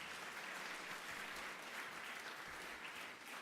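Dense, steady applause from the audience at the closing session of a health summit in Tanzania, a broad even roar of many hands clapping continuously throughout with no break.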